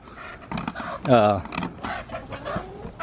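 Chickens clucking inside a backyard coop with leaf bedding, close and loud, with repeated clucks and one drawn-out squawk in the middle; no speech.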